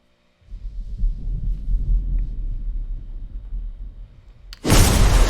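Storm and tornado sound effects from the Twisters trailer: a deep, low rumbling wind churns steadily, then bursts into a sudden, very loud roaring blast near the end.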